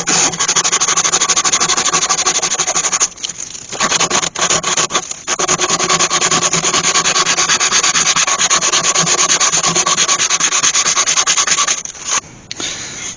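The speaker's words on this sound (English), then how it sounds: "just hold that like that and start sanding" Sandpaper held by hand against a turned wooden spindle spinning on a lathe gives a loud, continuous close rasp, broken by two or three short pauses as the grip shifts.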